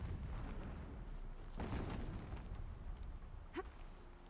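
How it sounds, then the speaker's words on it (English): Distant explosions in the game Horizon Zero Dawn rumble faintly as low muffled booms, one swelling midway and a sharper burst near the end, over a quiet background. "Explosions in the distance."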